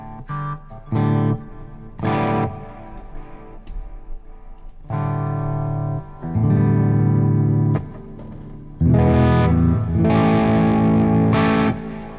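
Distorted electric guitar chords played through an amp in loud bursts, some short stabs and some longer sustained strums, with brief quieter gaps between.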